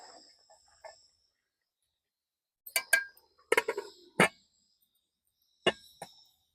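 A lid is set on a white kadai cooking pot, making a few sharp metallic clinks and clatters in short bursts separated by quiet gaps.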